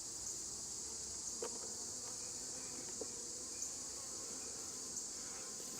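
Honey bees buzz steadily around a busy hive, a constant high drone with occasional louder passes of individual bees flying close.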